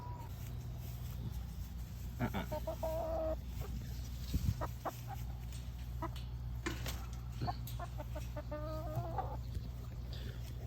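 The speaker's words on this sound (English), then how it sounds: "We got a chicken on the run." A backyard chicken with a red comb, loose outside its fenced run, clucks in short repeated bursts at close to moderate distance over a steady low outdoor hum, with no talking.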